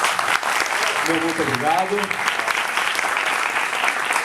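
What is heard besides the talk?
audience applause at a debate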